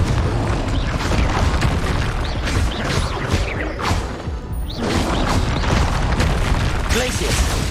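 Confringo explosive spell blasts from Hogwarts Legacy on PC boom and crash through a sustained barrage of loud battle effects, several bursts overlapping in quick succession while a voice shouts over the din.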